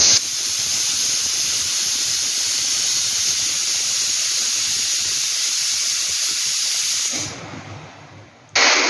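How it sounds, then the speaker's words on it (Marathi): A loud, steady hiss of steam escaping from a pressure cooker whistle while cooking a pea and potato dish, continuing for several seconds before cutting off abruptly. "कुकरची एक शिट्टी काढून घेतलेली आहे आपण"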